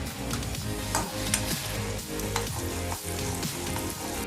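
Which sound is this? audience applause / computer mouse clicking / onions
onions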